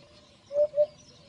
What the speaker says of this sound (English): and call of a hoopoe bird.